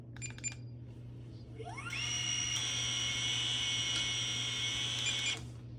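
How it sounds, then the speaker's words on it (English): A small DJI Neo drone spins up its propellers after a few clicks, rising into a steady, loud high-pitched whine that holds for several seconds before cutting off. "DJI Neo sound."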